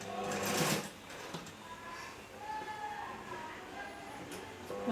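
Sewing machine stitching a kunchigi, a traditional hooded garment, its motor whirring close and continuous with small surges and pauses, while a voice speaks faintly over it.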